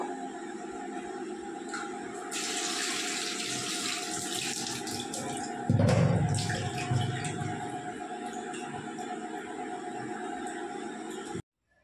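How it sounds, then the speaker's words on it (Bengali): Water runs steadily from a kitchen tap over a hilsa fish being washed, a continuous close splashing stream that grows louder and heavier partway through as the fish is rinsed under it, then stops abruptly. "তো এই মাছটাকে ধুয়ে নিই"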